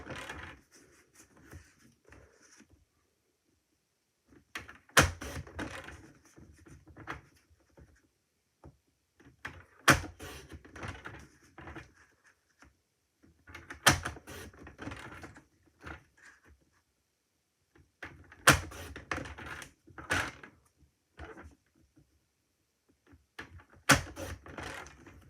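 Paper being cut into eight small strips 1.5 cm wide for a scrapbook summer lantern, heard as short crisp snips and slices in separate bursts roughly every five seconds, close and clear with quiet pauses between.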